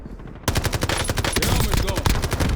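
Sudden burst of loud automatic rifle fire in Call of Duty: Warzone, a fast continuous rattle of shots that starts abruptly and carries on to the end.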